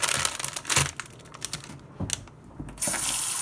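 A kitchen tap runs water over freshly cut Irish sea moss as it is rinsed by hand, with splashing and wet crinkling handling, then a steadier stream of water near the end.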